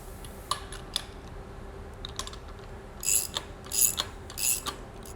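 Socket wrench ratcheting while tightening set screws on a Jarvis 50D-1 beef dehorner during maintenance, faint isolated clicks early, then several quick close ratchet bursts in rhythm.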